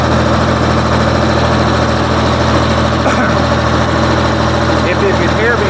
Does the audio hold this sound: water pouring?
no